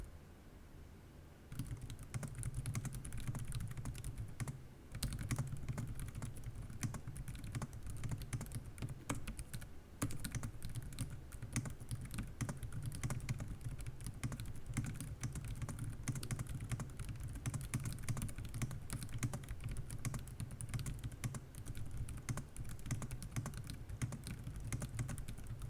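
Steady typing on a Logitech K380s keyboard, quiet rapid key presses pattering continuously for a long stretch at close range, with no talk over them.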